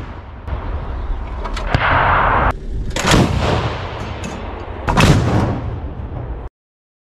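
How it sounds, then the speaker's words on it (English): Anti-aircraft gun and airborne troops firing at enemy positions during an attack on a remote militant stronghold, heard as loud repeated gunshot bursts with sharp reports and echoing booms over several seconds. "the airborne troops went to firing positions and, taking aim, hit the enemy"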